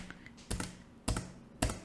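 Three separate clicks of a computer keyboard's space key, each a sharp tap roughly half a second apart, close and fairly quiet, with no talking.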